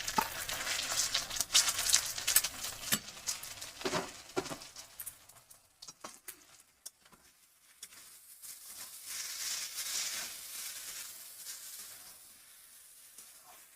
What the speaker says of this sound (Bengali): একটু নেড়ে চেড়ে নেবো, কাঁচা গন্ধটা চলে যাবে।